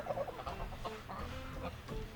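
Geese let out of their pen honk and cluck repeatedly, in short bursts at moderate distance against low background noise, with no one talking.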